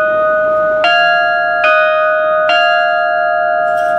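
Church tower bells at St. Thomas' Church, Whitemarsh, hung dead and bolted to a steel frame, are struck by their clappers three times in a steady rhythm. Each strike rings out loud and clear with a long sustained hum.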